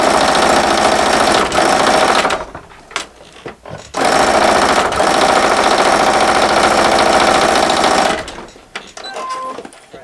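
A sewing machine stitches quilt fabric for a dog bed in loud close bursts of rapid mechanical clatter, stopping twice briefly with small handling sounds between runs.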